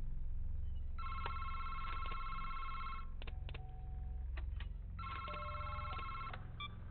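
An electronic telephone ringing in the video game The Return to Freddy's 2: Winter Wonderland, two long trilling rings separated by a few short beeps, fairly faint over a low background hum.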